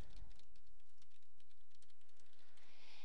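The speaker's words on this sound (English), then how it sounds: "It opens up, and I go ahead and type something." Typing on a computer keyboard, a quick series of distinct close key clicks in an uneven rhythm, heard alone in a quiet room.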